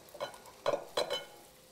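Pasta is tossed and stirred in a pan with olive oil, giving a few short, soft scraping and sizzling swishes spaced under a second apart against a quiet background.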